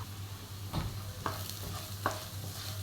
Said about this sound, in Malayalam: അതുവരെ നമുക്കൊന്ന് ഇളക്കി കൊടുക്കാം.